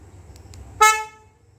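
A Hyundai Venue sounds one short, loud horn toot when the lock is pressed, preceded by a couple of faint beeps in a quiet setting.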